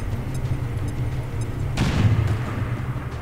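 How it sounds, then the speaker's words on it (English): A grenade detonates in XCOM 2, one sharp boom partway through the clip. A low rumble follows over continuous game ambience. "I'm just gonna use the grenade though."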